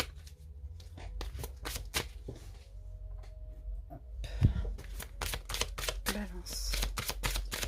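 A deck of tarot cards is shuffled and cut close by, giving rapid riffling bursts and crisp snaps, with a few quiet words spoken.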